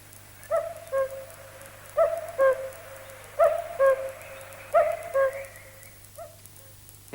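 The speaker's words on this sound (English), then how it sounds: "A strange bird, the cuckoo." A cuckoo calling in repeated two-note phrases, four clear pairs spaced evenly, moderately near against a quiet outdoor background.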